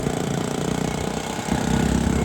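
Motorcycle engine running steadily on a ride to a plateau near Dhareshwar and Patan, a continuous loud mid-pitched drone that swells slightly toward the end, with no talk over it.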